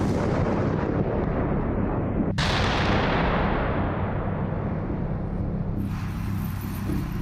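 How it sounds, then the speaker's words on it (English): An Archer truck-mounted 155 mm L-52 howitzer fires one sharp, heavy boom. The blast rolls out into a long, loud rumbling decay over a constant background roar. "Archer is a truck-mounted 155 mm L-52 howitzer built to deliver modern artillery fire"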